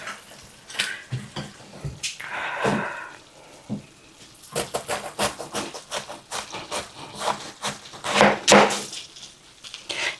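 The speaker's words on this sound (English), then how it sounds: "now then I'm going to cut my cabbage" Knife chopping through cabbage on a cutting board, a series of close crisp crunching and scraping strokes in uneven bursts, some rapid runs of cuts, no talking.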